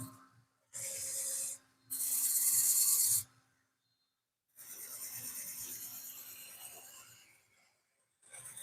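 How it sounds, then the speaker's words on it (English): Sandpaper rubs against a wooden bowl spinning on a lathe, giving three bursts of close, steady, hissing abrasion separated by brief silences. "Let's see if we can do a little sanding on this."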